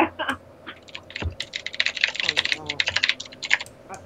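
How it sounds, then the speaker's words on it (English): Rapid, uneven clatter of keys on a computer keyboard at a gaming talk show, steady close tapping with brief pauses and faint voices in the background. "Here we go with the typing again."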